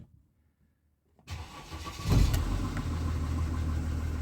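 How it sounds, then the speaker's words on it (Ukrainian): Mercedes Vito 639 with a 3.0 engine and automatic gearbox, about 379,000 km on it, cranks briefly after silence, then catches and settles into a steady, close idle. "Пробуємо заводимо машину."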